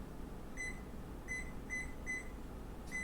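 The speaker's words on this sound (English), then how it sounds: "Timer." Kitchen timer set while making soup, giving a series of five short, bright electronic beeps at irregular intervals over low background noise.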